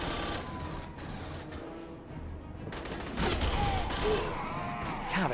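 Gunfire in Aliens: Colonial Marines, a steady stream of rapid shots with brief pauses, mid-loud and mixed with clanking game effects and a muffled impact.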